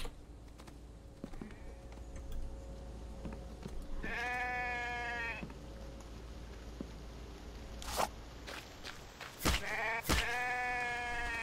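Sheep bleating in the survival game The Infected, two or three wavering harmonic bleats standing out over steady game ambience, with sharp clicks and bangs near the end.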